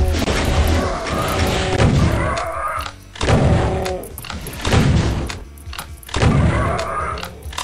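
A plasma gun fires in a first-person shooter on a flooded castle map, producing loud, repeated booming bursts at roughly one-second intervals with brief gaps, close and dominant throughout.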